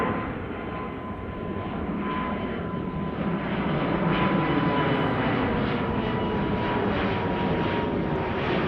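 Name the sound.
jet airliner departing Amsterdam Schiphol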